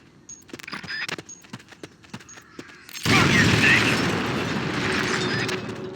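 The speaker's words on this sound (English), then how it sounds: "Once the charge is planted, press the attack button without aiming to detonate it." A planted charge detonates in Metal Gear Solid Peace Walker, a sudden loud blast cutting in halfway that settles into a sustained rumbling roar, after a stretch of sparse sharp clicks and taps.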